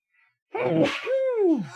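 A single close, loud human sneeze indoors: a sharp inhaled catch followed by a forceful burst with a falling, voiced tail.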